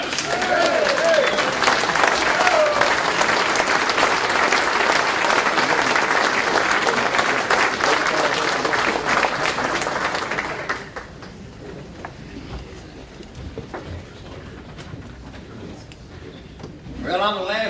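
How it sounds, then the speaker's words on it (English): A banquet crowd at a touchdown club anniversary celebration applauds an honoree with loud, dense clapping and some cheering for about ten seconds before it drops off abruptly to a quiet room. "Please give a rousing round of applause to Jake"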